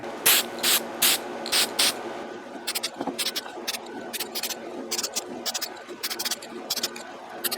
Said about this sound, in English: paint it with some Rust-Oleum metallic